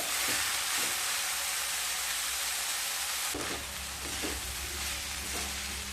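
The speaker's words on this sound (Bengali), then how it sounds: "এবার হাই ফ্লেমে পাঁচ থেকে সাত মিনিট এইভাবে বাঁধাকপিটাকে রান্না করে নিতে হবে" Cabbage frying on a high flame in a home kitchen for a potato-cabbage bhujia, a loud, dense, continuous sizzle with a few stirring scrapes partway through, no talking.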